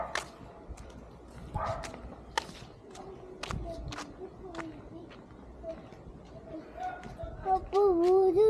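A dog barks in short, scattered yaps on the grounds of an outdoor apartment complex, mixed with people's voices and other outdoor sounds.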